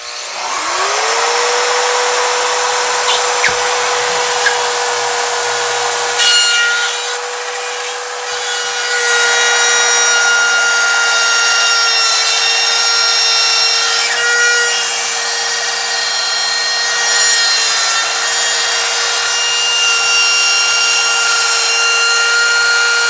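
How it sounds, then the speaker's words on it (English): A Rotozip spiral saw cuts through a screwed-down sheet with a loud, high-pitched whine that holds steady and dips briefly under load, a close and continuous grinding cut. "This is called a rotozip."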